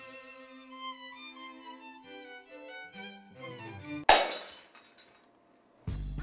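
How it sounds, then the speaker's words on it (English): Glass shatters loudly in a science classroom, a single sharp crash with tinkling fragments that fade, following light background music, with a second smaller clatter near the end. "Glass breaks in a science classroom."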